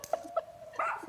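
A dog in a home yips and whimpers briefly, two quick soft yelps followed by a higher whining note, faint and set in a quiet room.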